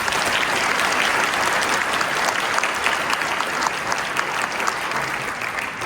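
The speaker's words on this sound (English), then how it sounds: "Give them a big round of applause." An audience at a public information session about a data center in Wisconsin Rapids applauds steadily, a dense, loud wash of clapping that holds for several seconds without pause.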